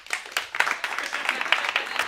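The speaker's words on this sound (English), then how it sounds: "clap your hands." A stand-up comedy club crowd in Austin, Texas claps hands, a brief scattered patter of claps from a modest audience that rises quickly, holds for about two seconds, then stops.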